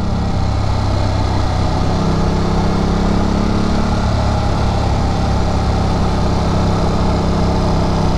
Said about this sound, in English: This bike is too quick for its own good. It's going 70 miles per hour.